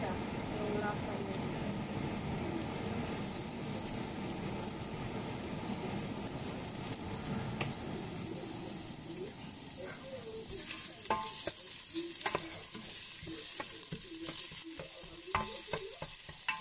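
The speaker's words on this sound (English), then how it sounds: "Let's just saute the garlic first, guys." Garlic sautéing in a pan gives a dense, close sizzle that runs throughout, later joined by sharp clicks and scrapes of stirring.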